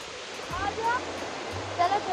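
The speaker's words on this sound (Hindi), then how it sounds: "This is the secret waterfall." Steady broadband rush of a waterfall near Rishikesh, continuous and fairly close throughout, with a low hum and brief murmur of distant voices under it.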